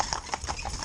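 A horse's hooves clop on a paved road in a steady, close walking rhythm, with a few even strikes in under a second; the horse is one of a stallion and two geldings being trained in tandem.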